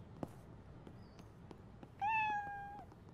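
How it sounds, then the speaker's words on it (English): A single cat meow from the video game Internet Cafe Simulator 2, one drawn-out, clear call lasting under a second, heard alone over quiet game ambience with a few faint clicks. "random cat sound"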